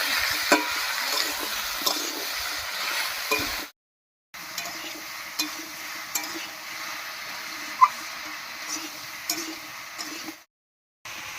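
Bottle gourd cooked with salt and turmeric in a pan over tempering spices: soft sizzling and occasional spatula taps, nearby and moderate, cut by two brief silent gaps.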